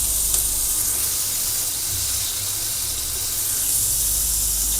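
Paneer tikka sticks sizzle in oil on a hot tawa, giving a continuous, even hiss with a low hum underneath and no talking.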